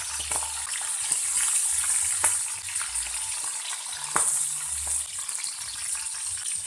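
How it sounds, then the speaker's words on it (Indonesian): Chili peppers fry in hot oil in a home kitchen, producing a steady bright sizzle with occasional sharp pops and the low knocks of stirring in the pan. "Selanjutnya kita goreng cabainya, supaya tambah gurih saat dibuat bumbu masak nanti"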